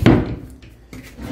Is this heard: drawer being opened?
yes